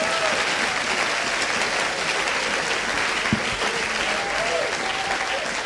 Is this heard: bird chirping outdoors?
no